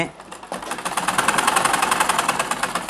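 A sewing machine stitches a pair of trouser pajamas, giving a fast, even mechanical rattle close up that starts after a brief pause and keeps going steadily to the end.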